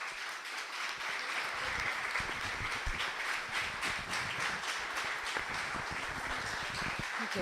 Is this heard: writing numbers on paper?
no